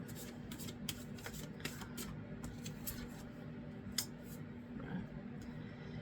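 Tarot cards being shuffled and drawn, a steady run of soft riffling and papery flicks with a few sharper snaps, close and fairly quiet, with no voices.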